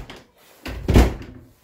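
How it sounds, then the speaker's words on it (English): A door thuds shut once, close by, with a short muffled impact and a soft creak just before it, in an animal pen or barn setting. "Shut door, shut."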